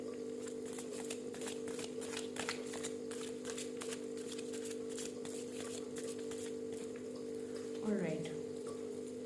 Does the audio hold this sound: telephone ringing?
no